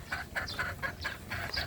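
Pet roosters cluck in a quick series of about seven short, close calls, evenly spaced and with no talking.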